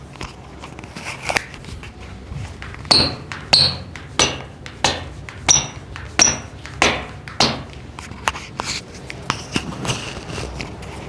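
A series of sharp taps and knocks on a futsal shoe, roughly a dozen in uneven rhythm, close and fairly crisp against a quiet background.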